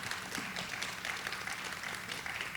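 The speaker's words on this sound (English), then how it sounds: "We can give them a round of applause, please" An audience at a panel event gives a short round of steady applause, moderately loud and continuous with no talk over it.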